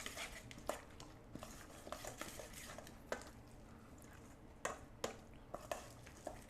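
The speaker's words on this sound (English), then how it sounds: "Give it a stir." A spoon stirs a lemon, salt and olive oil dressing in a bowl, with soft repeated scraping and a few sharper clinks against the side, close and quiet, and no talking.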